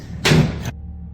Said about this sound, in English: The cabinets are knocking again.